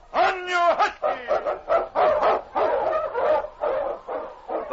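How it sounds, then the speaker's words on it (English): A husky lead dog in an old-time radio drama set in the Yukon barks and yips repeatedly, starting with a drawn-out howl-like whine, loud and close, with no talk over it. "The Wonder Dog King, swiftest and strongest Eskimo lead dogs, blazes a trail through storm and snow for Sergeant Preston"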